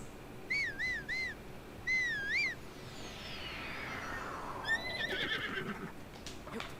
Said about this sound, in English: Time to summon horse.